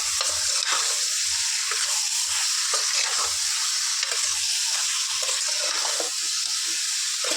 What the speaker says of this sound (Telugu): చికెన్ని చక్కగా ఆయిల్లో ఇలా ఫ్రై చేసుకోవాలి